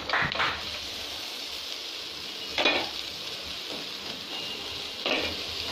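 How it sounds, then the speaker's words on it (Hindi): Spinach sizzles in a frying pan for a palak aloo dish, a soft steady fry broken by three short louder bursts as it is stirred, with no talk. "अब इसमें मैं पालक डालूंगी"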